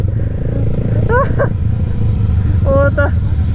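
A dog barks in two short bursts of two or three sharp yelps each, somewhat distant, over the loud steady drone of a motorcycle engine on a downhill road.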